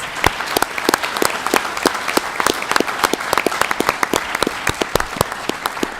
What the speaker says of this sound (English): If we could give all of our retirees one more hand, a round of applause